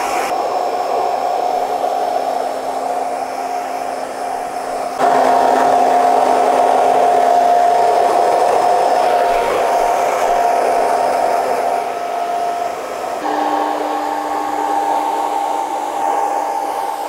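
A hair dryer blow-drying hair at medium speed on high heat, a steady close whooshing roar with a whine that shifts pitch a few times as the airflow changes, running continuously without talk.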